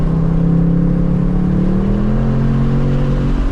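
A Ford Mustang S650 engine revs through a downshift from inside the car, a steady, loud mid-pitched drone whose tone rises and settles across the gear change, with no talking.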